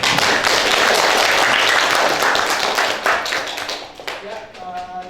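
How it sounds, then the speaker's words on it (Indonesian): An audience at a university presentation breaks into dense, sustained applause that fades gradually toward the end, where a voice begins speaking over the last scattered claps. "sekalian tepuk tangan buat mereka dong"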